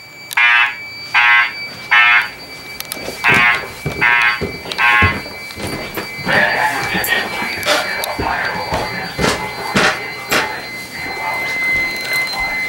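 A home fire alarm system horn blasts in a series of evenly spaced pulses during a system test, then stops, followed by clicks, clatter and background noise.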